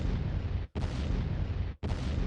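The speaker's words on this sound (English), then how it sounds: "Drop an explosion." A loud, booming explosion sound effect dropped into a podcast, heard as repeated heavy blasts with brief gaps between them and no talk over them.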